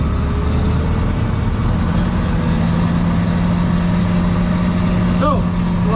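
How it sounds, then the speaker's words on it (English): A mower engine starts and settles into a steady running drone out in a field. The sound is loud and close, with a voice speaking over it. "So, we're ready to start mowing. So, we'll start her up."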